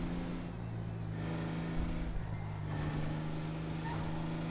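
A car driving in the GTA video game, a steady low engine drone that stays fairly quiet and even throughout, with no talking over it.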